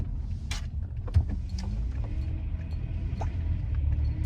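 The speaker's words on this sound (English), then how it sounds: "my power steering is what's making the additional noise when I kind of move my my wheel around" A van's low engine rumble with intermittent faint whining and creaking noises from the power steering as the wheel is turned, steady and close, with no voices.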